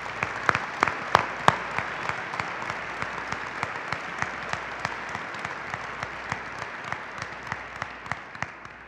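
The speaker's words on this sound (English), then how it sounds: "ladies and gentlemen, I ask you to join me in a round of applause for these great," An audience applauds at a military change of command ceremony for the 7th Infantry Division. The clapping is steady and moderately distant, with a few sharper claps standing out near the front.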